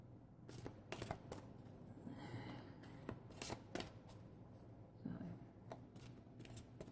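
Tarot cards shuffled by hand indoors, a soft papery riffling and flicking in several quick bursts at close range, with a low steady hum underneath.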